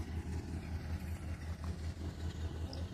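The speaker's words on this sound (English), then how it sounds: "I do know there's a diesel engine, maybe 2 diesel engines in there." A Susquehanna diesel locomotive, engine #3018, switching grain cars in Binghamton, NY, idles with a low, steady rhythmic throb of pulses, close and continuous with no voices.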